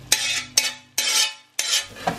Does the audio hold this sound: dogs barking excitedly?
no